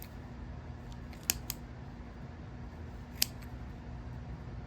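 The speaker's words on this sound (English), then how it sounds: "you can just take your scissor and go in all of these loops and cut these loops apart" Scissors snip through yarn loops on a crochet or knit piece, two sharp, faint, close clicks about two seconds apart over a quiet room hum.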